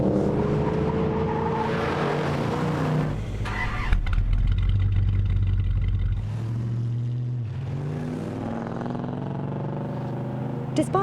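A classic Ford Mustang fastback's engine revs and roars past in bursts, loud and close, with someone talking over the sound.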